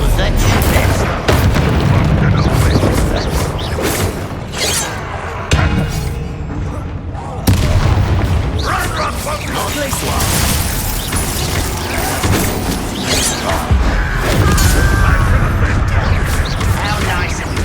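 Booming spell blasts and rumbling combat effects from the Hogwarts Legacy video game, dense and loud throughout with heavy low-end impacts, layered with game dialogue voices.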